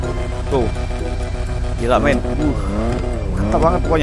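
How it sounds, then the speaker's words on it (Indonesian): Modified turbo Ford Fiesta engine in GTA 5, revving and rising and falling in pitch with tire squeals, loud and continuous as someone talks over it excitedly. "Ini suara mesinnya guys, suara turbonya mantap ya."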